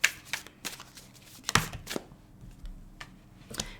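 Tarot cards being drawn and handled from a deck, a series of crisp papery snaps and slides spaced irregularly, close and fairly loud with no talking.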